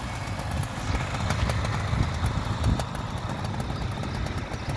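A 1975 Suzuki GT185 two-stroke motorcycle idling just after starting, a quiet, steady, slightly uneven burbling engine note heard up close with no one speaking.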